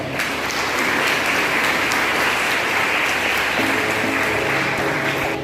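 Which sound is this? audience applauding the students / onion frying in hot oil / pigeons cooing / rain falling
audience applauding the students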